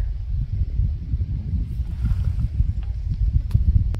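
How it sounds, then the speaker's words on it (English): Breezy wind buffeting the microphone during a kayak trip on the Humber River, a steady low rumble with gusty fluctuations throughout, close and fairly loud, with no voices. "A bit of wind today. Not too bad though, a bit breezy."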